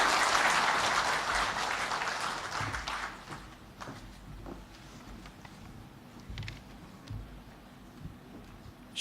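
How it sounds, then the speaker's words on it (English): An audience at a book launch claps to welcome the chairman. The applause is loud at first, then thins and fades over several seconds, with scattered taps and no speech. "Let us welcome him with a big round of applause."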